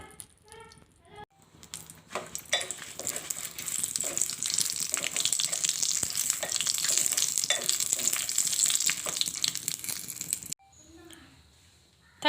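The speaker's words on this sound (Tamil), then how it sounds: "எண்ணெய் கொதிச்சிட்டு நாங்கள் மிளகாயை போட்டு பொரிச்செடுப்போம்." Dried red chillies sizzle in hot oil while a tomato pickle curry is prepared, giving a dense, steady frying hiss that starts after a short quiet moment, runs close for about nine seconds, then drops away.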